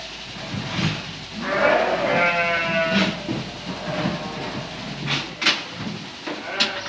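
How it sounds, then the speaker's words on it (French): Lacaune dairy ewes bleating on a farm producing milk for Roquefort, a few wavering bleats rising over a busy background with a voice talking underneath. "On travaille avec des brebis laitières, donc la race Laconne."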